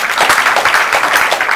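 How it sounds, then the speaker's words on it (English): Audience applause at a FameLab Mauritius 2017 science talk competition, a crowd clapping steadily and fairly loudly with dense, even rhythm for the whole stretch. "Ultra round of applause for Sheikh"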